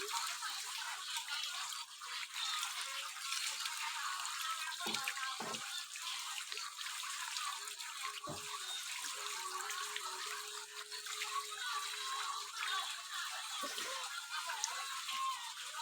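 Water runs steadily from a tap or shower while legs are washed, a constant close splashing hiss with a few brief drips and knocks throughout.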